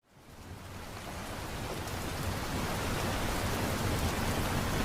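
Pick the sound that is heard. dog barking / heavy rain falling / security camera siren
heavy rain falling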